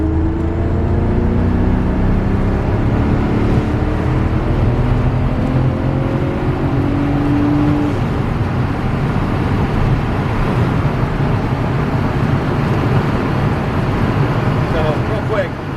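Automatic Porsche 928 from 1986.5 pulling away after a downshift to second gear, heard from inside the cabin as a steady, loud engine drone with rising tones and road rumble.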